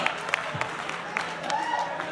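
At a Hindi poetry gathering, an audience claps in a steady, scattered patter, filling a big space under a faint background hum.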